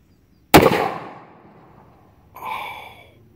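A single close, very loud shot from a Taurus 415 .41 Magnum revolver fired single action with a lead load, a sharp blast decaying over about a second, followed by a brief exclamation.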